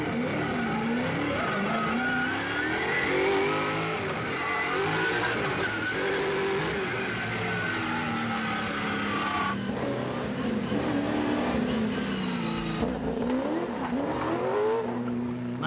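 A drift car at the D1GP Tokyo Drift exhibition revs hard and continuously, its engine note rising and falling with bursts of tire squeal and skidding, loud and close throughout.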